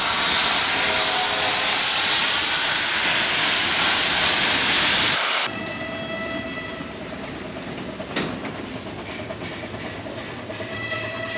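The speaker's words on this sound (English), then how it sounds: "Here's an upbound train powered by JS 282." JS class steam locomotive No. 282 hauling an upbound train at Chengde Steel: a loud, steady steam roar and hiss, then a lower rumble of rolling cars with faint clanks and a sharp knock, no voices.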